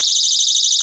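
A personal safety alarm, set off by pulling its cord pin, blares as a loud, steady, high-pitched electronic shriek that holds unbroken the whole time, close and piercing.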